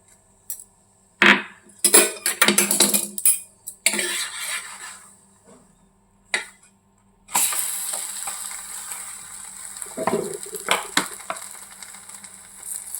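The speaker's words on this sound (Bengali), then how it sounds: "এবার ডিমের গোলাটা দিয়ে দেবো হাফটা।" Egg batter for an egg paratha poured into an oiled pan, with bursts of sizzling and clattering utensil scrapes coming and going, louder spells near the start and again after the midpoint, no voices.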